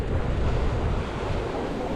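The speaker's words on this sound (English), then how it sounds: "Here comes a wave." Ocean wave at Waikiki breaking close by, a broad continuous rush of surf with wind buffeting the microphone, with no voices.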